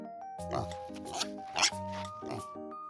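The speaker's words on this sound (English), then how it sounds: "It's the pig." Farm pig grunting and oinking in several short bursts over nearly three seconds, close and fairly clear, over a soft musical background.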